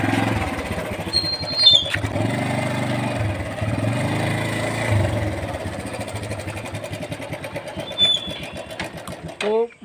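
A motorcycle runs in first gear at low speed with a steady, mid-pitched engine drone. A voice talks over it throughout, and there are a few brief higher squeaks.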